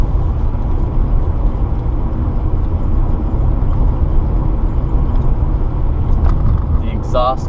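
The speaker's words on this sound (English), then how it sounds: "The exhaust is decently loud for a stock vehicle" Exhaust drone from a stock Nissan Skyline R32 GTS-t with a turbo engine, a loud, steady low rumble running throughout, with a brief squeal near the end.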